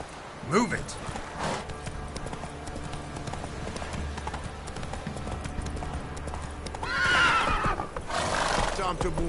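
Horses in The Witcher 3 neigh and whinny around a stable yard while hooves clip-clop steadily, with a loud whinny near the end, under raised voices and shouting.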